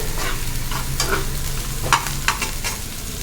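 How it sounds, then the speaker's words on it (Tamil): Onions sautéing in a pan for masala pasta, with a steady close sizzle and the repeated scrape and clack of a spatula stirring through them, and no talk. "நல்லா வெங்காயம் வதங்கட்டும்"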